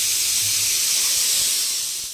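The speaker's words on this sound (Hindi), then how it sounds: "उधर भुट्टे उबल रहे हैं" Corn cobs boiling in a pot on the stove give off a steady, loud hiss of steam that fades slightly at the end, with no voices.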